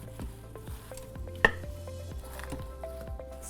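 Baby spinach leaves being stirred into a pot of soup, quiet soft rustling and squishing with light scraping strokes and a single sharp clink partway through, fairly faint and with no speech.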